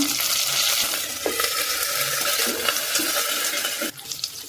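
Green chillies and curry leaves fry in a pan for noodles made from leftover chapatis, giving a dense, loud, water-like hiss that runs steadily and then drops away abruptly near the end.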